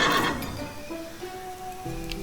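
A video-game horse whinnies in a short rising burst, followed by a steadier snort and faint clopping, sounding slightly synthetic and close.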